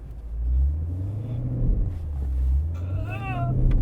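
A 2022 Lexus IS 500 V8 rumbles loud and low, its engine held against the brake before a burnout launch, with a brief squeal partway through and voices talking over the steady drone.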